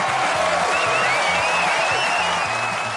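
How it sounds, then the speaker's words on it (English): Applause in a trivia game show: a dense, steady wash of clapping from a room full of people, loud throughout, with faint background music underneath. "Get applause."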